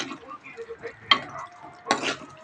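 Egg gravy stirred in a pan, with soft scraping strokes and gentle sizzling broken by two sharper scrapes of the utensil against the pan.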